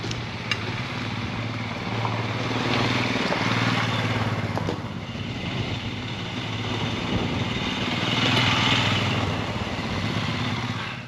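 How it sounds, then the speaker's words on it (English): A motorcycle engine drones steadily while riding on a mountain road in Ladakh, a continuous close rumble with wind noise that swells and eases slightly, with no talk. "Where can't these bikes go?"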